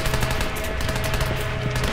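Rapid machine gun fire from a belt-fed weapon rated at 725 rounds per minute in a video game, a dense continuous burst filling the whole stretch with steady rattling shots.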